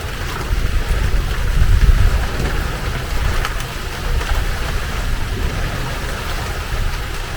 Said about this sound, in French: La pluie qui tombe comme ça.